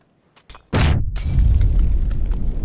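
A grenade blast in the battle-royale game PUBG lands as one sudden loud boom after a couple of faint thumps, then a dense rumbling roar that holds steady to the end.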